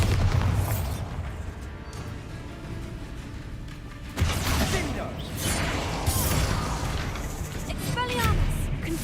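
A Bombarda blasting spell bursts in a Hogwarts Legacy duel, a sharp loud boom hitting about midway and followed by rumbling combat noise, with a voice speaking over the fight.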